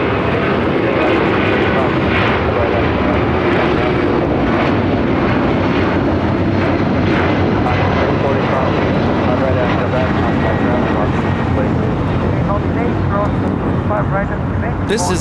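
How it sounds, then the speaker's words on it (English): A former All Nippon Airways 767-200 converted freighter, ABX Air Flight 403, roars steadily and loudly on its takeoff run at LAX, with a constant dense engine rumble throughout and voices mixed in. "This is ABX Air Flight 403 taking off to Cincinnati on a former All Nippon Airways 767-200 converted freighter."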